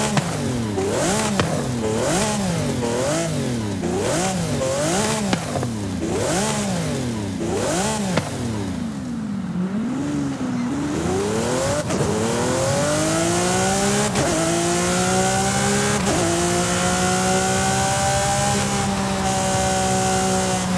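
A car engine from the Italian Exotics Car Pack in a racing video game revs repeatedly in rising and falling sweeps, then climbs steadily through the gears as it accelerates, loud and continuous with no talk.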